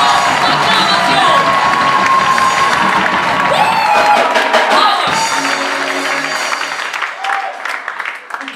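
A church congregation at a worship retreat cheers, shouts and whoops in loud acclamation, a dense crowd roar mixed with clapping and high children's voices that thins toward the end as a few voices linger.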